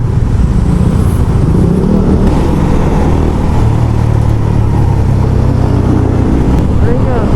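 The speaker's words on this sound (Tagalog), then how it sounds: "Grabe rin pala mag traffic dito" Road traffic on a trip north from Manila toward Vigan through La Union: constant loud engine and road rumble with wind noise, while people talk.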